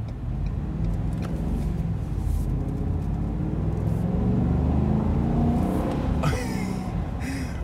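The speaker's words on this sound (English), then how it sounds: "We'll do another moderate acceleration." A 2021 Ford F-250 XL regular-cab long-bed pickup with the 7.3L V8 accelerating moderately, heard from inside as a steady, loud low engine rumble and whir that climbs gradually in pitch, with no talking.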